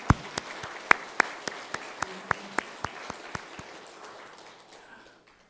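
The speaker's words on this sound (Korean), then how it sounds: "우리 한번 격려의 박수로 크게 치겠습니다." A church congregation at a Sunday children's-day service claps together in a slow, even rhythm, about a dozen sharp unison claps that gradually soften and thin out.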